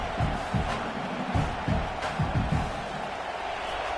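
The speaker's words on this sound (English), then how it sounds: "This crowd bringing the energy and noise early." A football stadium crowd at a college game roars in a broad, sustained wall of cheering and noise, with rhythmic swells and low thumping pulses running beneath the din throughout.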